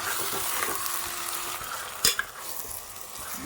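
Vegetables cooking in oil in a pan on a wood-fired stove, a steady close hiss of sizzling throughout, with a sharp clink of a utensil partway through.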